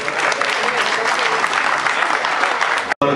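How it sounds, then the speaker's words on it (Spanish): A cultural event audience in Paraguay applauds a musical version with loud, dense, sustained clapping, full and close, cutting off abruptly near the end. "la versión merece un aplauso muy especial"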